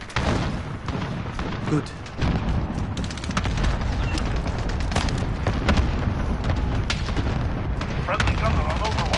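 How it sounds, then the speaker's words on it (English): Cluster strike explosions in a Call of Duty-style shooter game, a steady barrage of booms and blasts with scattered gunfire, loud and continuous, with voices talking over the battle. "Enemy cluster strike incoming."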